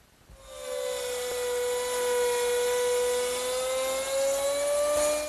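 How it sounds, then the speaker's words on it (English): A router with a 1/4 inch round nose bit cuts a straight slot in wood, its loud, steady high whine holding a sustained pitch for several seconds after spinning up, alone with no talk. "The straight slot is made easily by doing a pass from each side using a 1/4 inch round nose bit"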